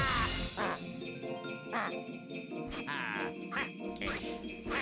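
Bright, jingly background music from the snow level of the video game Wario World, steady and fairly loud throughout with sparkling high tones over a fuller backing.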